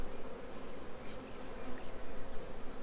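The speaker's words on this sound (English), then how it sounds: "Now the bees are starting to get a bit antsy." Dense, continuous buzzing of many honey bees close by, a steady swarming drone that rises and falls slightly without pause.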